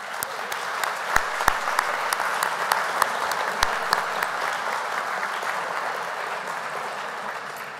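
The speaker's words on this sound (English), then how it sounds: "Could we please have a round of applause for the judges?" An audience at an awards show applauds the judges, a sustained round of clapping from a sizable crowd with a few sharper claps standing out near the microphone.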